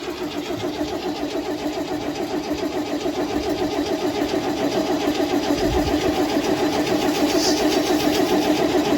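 A 1970 International Scout with a 232 straight six engine cranks steadily on its starter without catching, a continuous close, loud mechanical churn running for the whole stretch with no voices over it.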